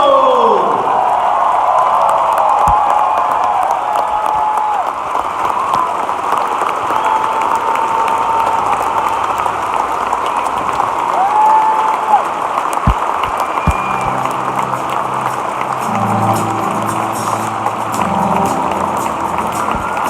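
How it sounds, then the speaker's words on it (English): Audience applause and cheering for a retiring UCLA coach at a sports event celebration, a sustained, loud wash of clapping and crowd noise lasting throughout, with some whoops and cheers rising above it. "let's have 1 minute big round of applause for the legend herself, Miss Valerie Condos-Field."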